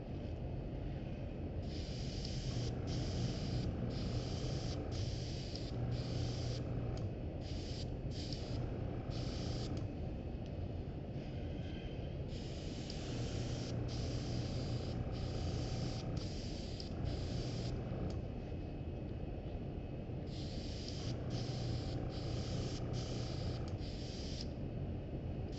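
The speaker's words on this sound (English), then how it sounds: "all I'm gonna do to get that darker effect around the edge is just dye the edge with the airbrush" Airbrush spraying dye along the edge of a leather purse: a steady hiss from the compressor underneath, with repeated short bursts of spray in quick runs, paused and resumed across several passes.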